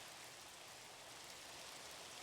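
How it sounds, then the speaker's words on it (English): Steady rain falling in Minecraft, a soft continuous hiss of broadband noise, fairly faint and even throughout with no voices. "Oh, stop with the rain. Stop with the rain."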